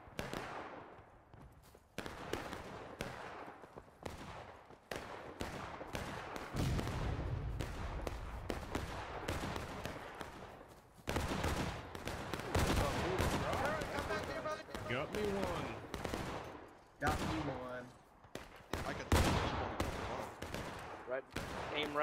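Musket gunfire in the Civil War shooter War of Rights, a ragged volley of sharp cracks from a firing line, some near and loud, others distant and scattered, with voices shouting over the shooting.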